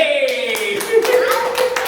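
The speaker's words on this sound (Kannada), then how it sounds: "ಕೊನೆಗೂ ಜೋರಾಗಿ ಚಪ್ಪಾಳೆ ತಟ್ಟಿ" A small group of people at home clap loudly in quick, uneven bursts. A sustained voice sounds over the claps in a cheerful, celebratory moment.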